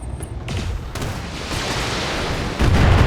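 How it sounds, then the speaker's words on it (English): A BattleTech mech fires a full salvo of autocannons, a string of heavy booming blasts and rumbling impacts that builds steadily and ends with a louder burst, with no talking. "Firing a full salvo."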